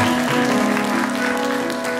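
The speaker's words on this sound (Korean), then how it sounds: "박수로 환영하겠습니다." Applause from a congregation during a Sunday church service welcoming a new high-school member, a continuous, even patter of clapping close by, with a tonal musical drone sounding underneath.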